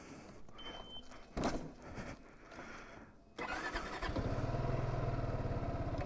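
A Zontes 300 motorcycle engine cranks and catches after a few faint clicks and rustles, then settles into a steady, throbbing idle close by.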